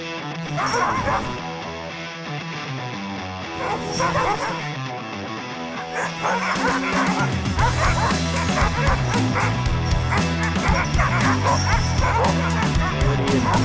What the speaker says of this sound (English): I got to ride on the sled behind an incredible team of excited dogs